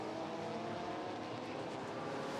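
A Lola T298 race car with a BMW engine runs at the Le Mans Classic, a dense, steady roar of engine noise holding at an even level and sounding fairly distant.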